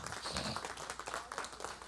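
Congregation applauding during a church service, a broad wash of clapping held steady throughout at moderate, fairly distant level, with no clear voices on top.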